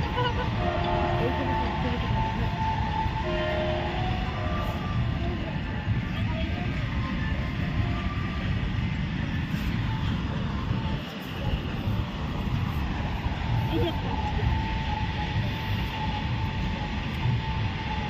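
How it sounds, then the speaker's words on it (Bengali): A down train rolls steadily past in a rural setting beside a potato field, its continuous rumble and rattle of wagons filling the whole stretch, loud and close, with a brief dip midway. "ডাউন ট্রেন চলে আসছে"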